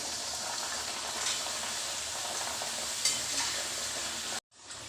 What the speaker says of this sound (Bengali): দুটো তিনটে একসঙ্গে দিয়ে দিচ্ছি তাহলে আমার তাড়াতাড়ি হয়ে যাবে লুচি ভাজাটা